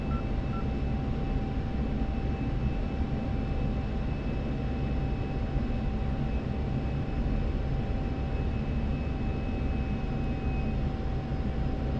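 Aircraft engine in a flight simulator game during a descending turn with throttle eased back: a steady, even drone with a constant tonal whine, unchanging and fairly loud for the whole stretch, with no talk.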